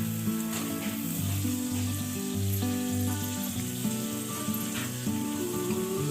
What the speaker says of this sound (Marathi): टॅमॅटोला देखील तसंच तेलामध्ये व्यवस्थित परतून घ्यायचं